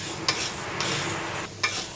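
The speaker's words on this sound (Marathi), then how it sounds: "साबुदाणा आणि वरीचे तांदूळ एकत्रच आपल्याला इथे भाजायचे आहेत। मीडियम भाजायचे आहेत" Sago and barnyard millet rice are dry-roasted in a pan and stirred, with dry scraping and rustling grains and a few sharper clicks of the spoon against the pan, close and fairly loud.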